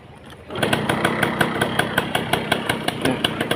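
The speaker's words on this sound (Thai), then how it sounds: "ลองฟังเสียงเครื่องดูนะครับ" A 100cc motorcycle engine with a hand clutch settles into a close, even idle after a brief quiet moment. Its exhaust pulses thump in a quick, regular rhythm with no voices.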